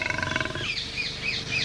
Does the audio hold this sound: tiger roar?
yes